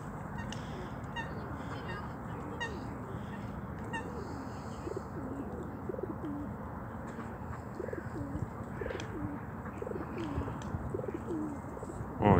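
Pigeons coo in a steady series of low, rolling calls outdoors where ducks are being fed, moderately close and continuous across the stretch, with faint background noise and no clear talk.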